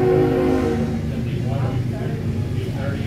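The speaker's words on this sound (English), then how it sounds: "And there goes a train by." A train rumbles past near old railroad tracks, a steady low roar with a brief tonal horn-like blare at the start, fairly loud throughout with no talk over it.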